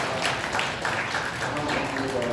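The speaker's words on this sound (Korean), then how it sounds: "우리 하나님께 감사와 찬송과 영광의 박수를 올려드리겠습니다." A church congregation at Sunday worship claps in a loose, moderately loud round of applause, with voices and a speaking voice mixed in over the clapping.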